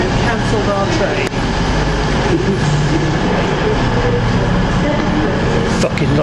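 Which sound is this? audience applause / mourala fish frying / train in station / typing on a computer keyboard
train in station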